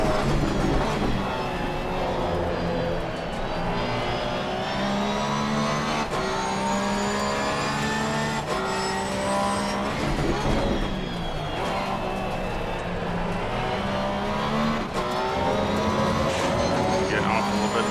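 Porsche GT3R race car engine in Assetto Corsa Competizione at Barcelona, a loud continuous mid-pitched roar with rising and falling revs through gear changes, steady throughout, with someone talking over it.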